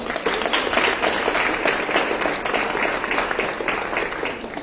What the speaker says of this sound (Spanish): Palmas, por favor, para ellos.